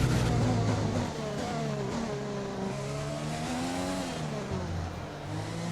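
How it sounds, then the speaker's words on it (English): An F1 2020 race car in the video game, its engine pitch dropping under braking, then drifting and revving back up with tire noise. The sound is loud and close, with no speech. "I braked too early and then I stopped braking for too long. A little bit of a drift on there."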